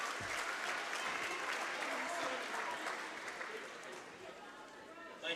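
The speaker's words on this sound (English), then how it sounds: "let's give all our seniors, boys and girls, one more round of applause" A gym crowd at a girls high school basketball game applauds seniors, sustained dense clapping and cheering that carries on loud and then tapers slightly toward the end.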